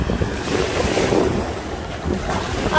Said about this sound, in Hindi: हवा के कारण इसमें बहुत बहुत सारा पानी ऊपर आ रहा है।